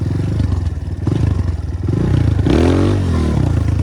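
A BSE 250 J3D motorcycle engine revs up and down close by, rising in pitch at one point, with clattering mechanical noise throughout.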